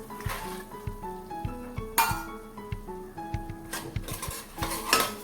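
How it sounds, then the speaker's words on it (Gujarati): Soaked mung beans tumble into a pan of masala puree and get stirred, with a metal spoon repeatedly clinking and scraping against the pan in a steady rhythm, close and moderately loud, with no one talking. "મગને પણ આપણે બધી વસ્તુઓમાં સારી રીતે મિક્સ થવા દઈએ અને ચલાવી લઈએ"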